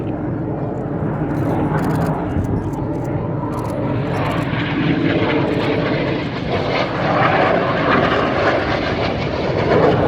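Red Arrows RAF jets in a flying display at the Gdynia Aerobaltic air show make a loud, continuous engine roar that swells slightly toward the end as the aircraft streaks fast along the display line.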